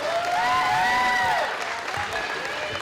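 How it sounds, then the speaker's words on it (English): A crowd applauds during a college basketball event, with sustained dense clapping mixed with crowd noise and a voice carried over a loudspeaker, fading slightly toward the end. "A round of applause for Mimi McNutt."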